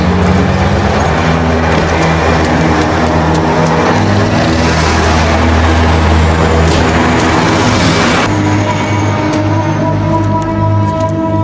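Continuous loud rumble of street traffic during a chase, with vehicles droning and swelling past at close range and a dense, unbroken wash of engine and road noise throughout.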